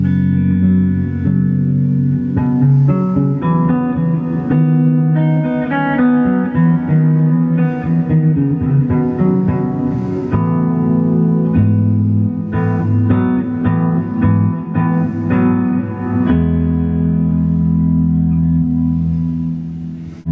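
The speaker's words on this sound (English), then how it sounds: "now here's a deluxe reverb." Guitar rings through a Fender Deluxe Reverb reissue amplifier, loud and sustained with strummed chords and picked notes for about twenty seconds, with no talking.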